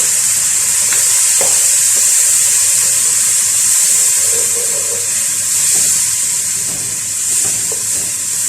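Crushed tomato goes into a pot of spiced rice with cinnamon powder, giving a steady close sizzle and soft stirring and wet bubbling for several seconds, with no talking.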